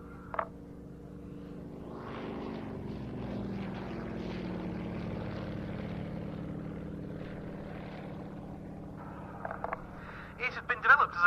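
A Yak-52 aerobatic propeller plane flies at an evening air display at Duxford, its engine drone rising and sustained at a moderate distance, with a brief clatter of nearby noise near the end.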